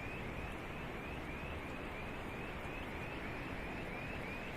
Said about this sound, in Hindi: बस आवाज़ है तो एक नदी की और एक बुलडोज़र की।